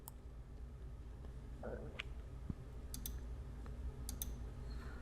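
A computer mouse gives a few light, sparse clicks at irregular intervals, close but faint over a steady low hum of room noise.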